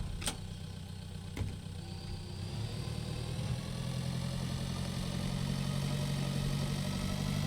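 A medium tractor pulling a plow across a field in the farming game Pure Farming 2018 gives a steady, droning engine hum that holds even and continuous throughout, with a couple of faint clicks early on.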